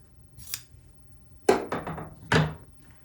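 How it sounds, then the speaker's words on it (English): Quilt fabric is cut apart along a diagonal seam line for half-square triangles on a patriotic red, white and blue table runner, giving a few close, crisp snips spaced apart with quiet pauses between. "once you've sewn on either side of that diagonal line, we're going to cut it apart"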